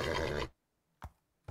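In a video game, a horse or donkey-like animal lets out a sharp whinny that cuts off abruptly, followed by silence and two brief faint thumps.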